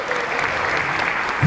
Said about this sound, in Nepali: अलिक धेरै ताली बजाउनुहोस् न हौ